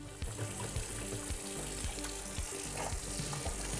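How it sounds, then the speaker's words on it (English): Water runs steadily from a bathroom sink tap in a budget rental bathroom as hands are washed beneath it, a close, continuous splashing rush with faint clinks, no talking. "Wash my hands."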